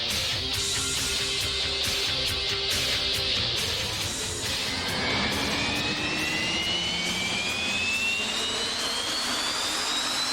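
Jet engines on jet-powered race cars spool up, a loud, roaring whine that rises steadily in pitch over several seconds, with a sharp tone climbing above the broad rushing noise.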